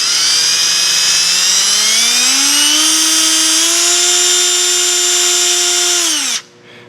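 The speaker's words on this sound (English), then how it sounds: "we have it chucked up in a drill, and let's see if she's bent." A power drill spins an engine part chucked in it to check whether it is bent, a loud steady whine that rises slightly in pitch, holds, then cuts off abruptly near the end.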